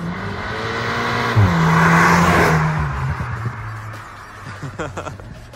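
A VW Golf 8 GTI Clubsport with ventilated brake discs revs and lifts off at close range, its exhaust sound swelling then easing, followed by a scattering of brief muffled pops and crackles on the overrun.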